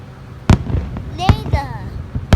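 Fireworks burst outdoors at night, three loud sharp bangs spaced about a second apart with crackling and whistling between them, while people talk faintly underneath.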